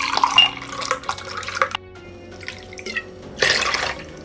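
Apple cider vinegar splashes and trickles from a container into a pot of water in a kitchen, with a steady liquid pour, brief pauses, and a final burst of pouring.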